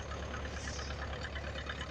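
Tractor engine idling close by, a steady low rhythmic chugging with a faint knocking pulse, even and continuous throughout, with no voices over it.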